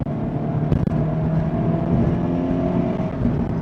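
A 2016 Scion FR-S with upgraded tires cruises steadily in third gear, its engine droning at an even, close, continuous level with a brief bump partway through, no voices over it.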